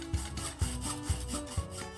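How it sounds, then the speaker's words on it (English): A hacksaw saws through thin tubular metal in four slow, even push strokes, each starting with a dull thump and carrying a rasping tone, close and fairly quiet. "Using a hacksaw to cut thin tubular metal like this is perfectly fine"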